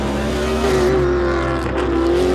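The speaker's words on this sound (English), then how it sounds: "listen to the sound of the engine." Race car engine at a motorsport event, a loud sustained drone with steady harmonic whine, pitch wavering slightly as it revs, heard alone without talk.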